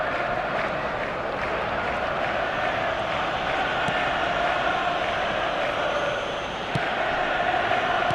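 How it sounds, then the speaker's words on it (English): A stadium crowd in the eFootball video game, a steady, loud wash of roaring fans and murmuring filling the whole stretch, with a couple of brief sharp accents. "Now the crowd are demanding that they just finish this off."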